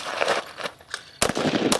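Rapid, sharp gunfire cracks from a rifle or handgun during a low-light shooting drill, several reports in quick succession at close range.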